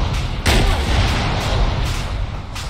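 Rocket launcher firing in a military video game, a heavy boom with a sharp onset about half a second in, followed by a rumbling tail over constant low battle noise.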